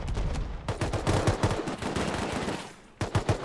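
Automated turrets in Rust fire rapid, continuous bursts of gunfire, loud and close, with a brief lull before another volley near the end.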